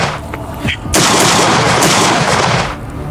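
A loud, sharp gunshot cracks out in a dramatic drama scene and sustains a dense, booming burst lasting about two seconds, after a low murmur of background voices.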